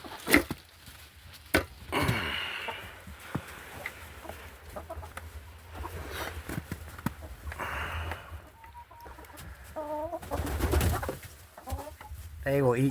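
Backyard chickens cluck and chatter while eating, with irregular short calls and pecking close by and someone talking over them now and then.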